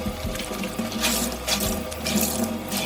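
Running tap water pours into a sink while soapy socks are rinsed by hand, a steady close splashing wash with occasional sloshing and shifts in flow.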